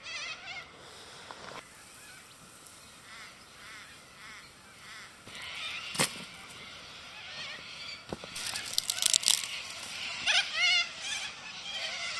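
Birds calling at morning beside Australia's longest river, a mix of harsh honking and cawing cries that grow louder and more frequent toward the end, over a quiet outdoor background.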